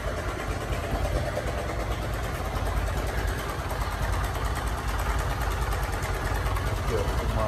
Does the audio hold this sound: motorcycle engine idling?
yes